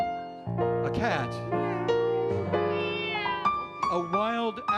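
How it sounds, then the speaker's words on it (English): A cat meows at night in a town, long wavering cries that rise and bend, loud and near, carried on one continuous run of sound with no pause. "a cat"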